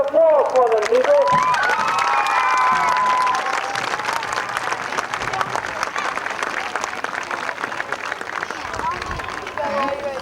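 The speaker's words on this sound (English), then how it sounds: "let's give each one of them a nice round of applause" Spectators at a 1992 recreation league opening day parade ceremony applaud and cheer, sustained clapping and scattered shouts under a voice talking through a loudspeaker.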